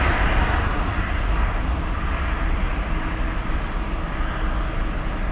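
Emirates flight 225 airliner approaching San Francisco International, a steady broad engine roar, constant and fairly loud with no voices over it.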